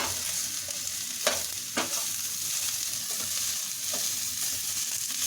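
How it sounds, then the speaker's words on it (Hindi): Vegetables for spring rolls fry in oil under a steady bright sizzle while a spoon stirs them, with a few distinct scraping clacks against the pan, close and continuous. "अब इसको अच्छी तरह से हिलाएंगे।"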